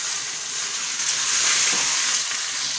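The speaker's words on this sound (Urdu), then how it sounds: "اب ہم اس میں چکن ایڈ کریں گے۔ چکن کو ہم نے اچھی طرح فرائی کرنا ہے۔" Chicken sizzles loudly in a pan with onion, garlic and ginger paste, a steady hissing fry with faint stirring and no talk.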